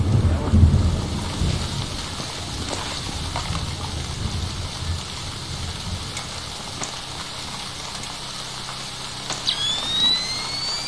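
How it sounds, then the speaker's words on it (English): Steady heavy rain in the video game Splinter Cell Chaos Theory, lighthouse level, with low rumbling thunder rolling underneath, a continuous dense wash of sound with a brief rising tone near the end. "Man, it's really raining."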